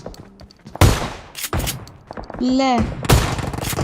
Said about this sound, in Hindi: शॉर्ट गन बाजी कर रही है चाचा, कर ले शॉर्ट गन